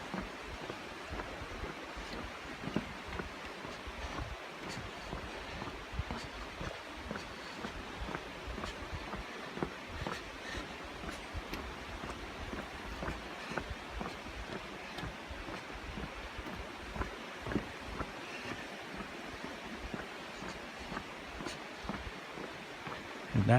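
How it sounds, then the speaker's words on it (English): A river flowing below a footbridge on the Appalachian Trail gives a steady broadband rush of water, faint and distant, continuous throughout with some wind buffeting. "I don't know if you can hear that river below us, but just a beautiful sound."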